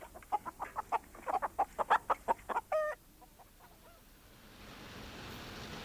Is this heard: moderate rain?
no